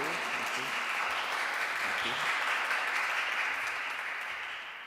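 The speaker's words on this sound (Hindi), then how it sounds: "ज़रा भरपूर तालियां बजाकर फ़ादर जी को मुबारकबाद देंगे।" A church congregation at a Sunday Eucharistic celebration gives a priest hearty applause, thick continuous clapping at steady loud level that fades slightly toward the end, with a voice faintly audible beneath.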